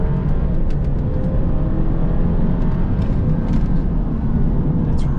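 A 2-liter turbocharged car accelerating, a loud, steady engine roar heard from inside without letup, the drone holding evenly across the whole stretch.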